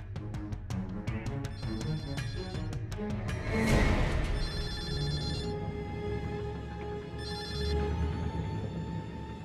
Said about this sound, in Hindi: पता नहीं किसका फोन आ गया।